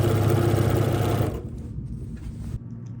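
A sewing machine runs steadily while stitching quilt strips, a loud, close mechanical whirr that stops abruptly partway through, leaving quieter handling sounds and small clicks.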